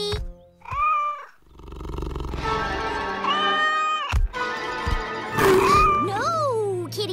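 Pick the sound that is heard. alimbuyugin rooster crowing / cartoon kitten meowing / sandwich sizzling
cartoon kitten meowing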